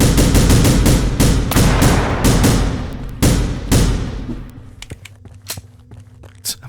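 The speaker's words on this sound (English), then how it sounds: "using my assault rifle, my automatic rifle, as if it's still the pistol" Automatic assault rifle fire in the video game The Final Station comes as loud, closely spaced single and double shots in an uneven rhythm, then thins into scattered sharp clicks and pops.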